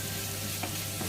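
Pork fries in a pan with a dense, steady sizzle that stays loud and close throughout the short stretch, with no voices over it.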